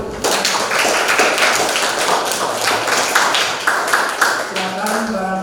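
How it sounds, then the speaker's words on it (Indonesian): Applause in a classroom, a sustained burst of many hands clapping together, steady and fairly loud across the whole stretch with voices faintly mixed in. "Tepuk tangan dulu."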